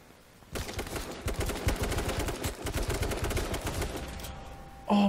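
Dense, rapid gunfire from the H1Z1 King of the Kill battle royale game, with loud overlapping bursts and volleys running almost continuously for several seconds before a brief pause.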